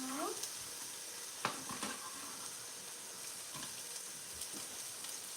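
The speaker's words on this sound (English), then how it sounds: "we're going to start sauteing off our onions in here" Onions sautéing in a pan, giving a quiet steady hiss and sizzle with a few faint taps and scrapes of utensils, fairly soft and close, without talking.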